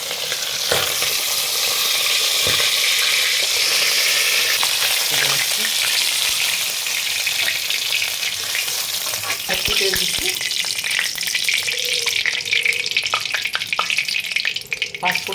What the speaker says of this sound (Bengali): এবারে মাছগুলো ভাজবো